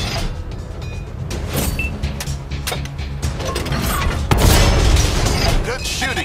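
Tank cannon fire against enemy tanks in World of Tanks on PS5, heavy booms over a constant mechanical engine rumble with clanking, and a voice talking over it.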